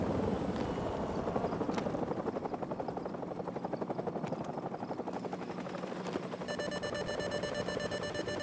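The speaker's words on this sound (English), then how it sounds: "grab a Stinger and take out that chopper" Helicopter in the Call of Duty: Modern Warfare Remastered video game, a steady rapid rotor chop throughout, moderately loud, joined by a high electronic beeping tone near the end.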